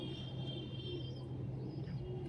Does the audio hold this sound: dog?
no